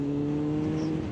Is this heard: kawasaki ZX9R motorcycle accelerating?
yes